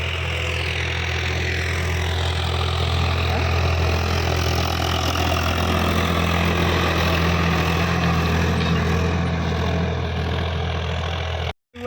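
A tractor engine idles steadily and loudly throughout, with a low, even rumble and a constant mechanical hum, cutting off abruptly at the very end.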